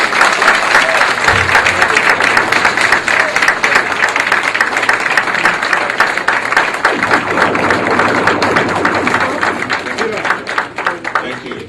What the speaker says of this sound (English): will you please give them, His Excellency, another big round of applause